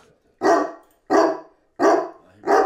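A watchful guard dog barks at strangers inside, four loud, close barks evenly spaced about a second and a half apart, with silence between them.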